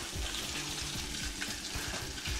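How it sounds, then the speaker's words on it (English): Steady crackling sizzle of a chicken wing deep frying in hot oil, close and continuous, with soft bubbling throughout. "we got our last wing frying here"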